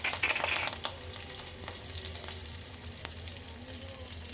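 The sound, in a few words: crushed garlic and curry leaves sizzling in hot oil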